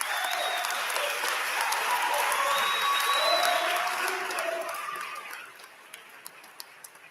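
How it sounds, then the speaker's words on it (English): Guests at a Grand Hall social gala give the event organizers loud, dense applause mixed with crowd voices and cheers, swelling and then tapering off to a few scattered final claps. "Let's give them a thunderous applause they all deserve"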